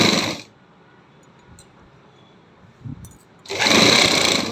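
A sewing machine stitching a halter neckline gives short bursts of whirring at the start and end, with a quiet gap in between.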